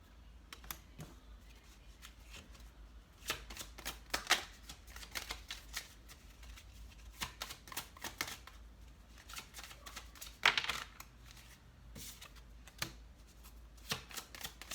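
Tarot cards being shuffled close by, with repeated quick riffling bursts and sharp card slaps coming in uneven runs across the whole stretch, with no talk over them.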